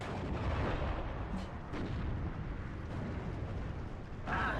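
Mortar bombs go off in the World War II strategy game Steel Division 2, heard as a steady, faint, rumbling wash of distant explosions with a few soft thumps and no clear individual blasts.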